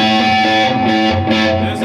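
Sustained distorted electric guitar harmonics ring out with echoing repeats trailing behind, loud and alone.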